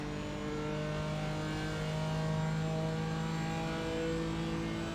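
BMW M4 GT4 race car engine at Road America in iRacing: a steady, loud droning engine note holding near-constant revs with a slight rise and fall, heard alone without talk.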